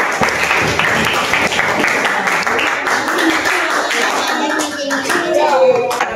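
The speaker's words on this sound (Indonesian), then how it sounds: "ayo tepuk tangan untuk kelompok 3" A classroom group claps together in sustained, dense applause, with faint children's voices mixed in.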